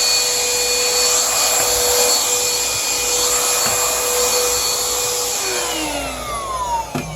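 An XREXS H-109 cordless handheld car vacuum cleaner, rated at 8 kPa suction, runs steadily and loudly throughout with a constant whining motor hum, its pitch dipping slightly near the end.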